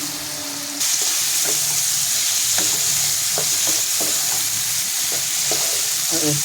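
Masala sautés in a pan over a gas flame, a dense sizzle that swells suddenly and then holds steady while a spatula taps and scrapes in an irregular rhythm, close and with no one speaking.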